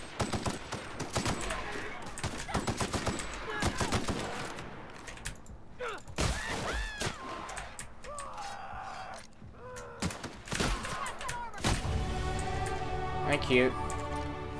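Shotgun blasts in The Outer Worlds video game fight against marauders: a rapid series of loud, sharp shots and thuds in irregular bursts, with game sounds and effects around them and a voice talking over the action.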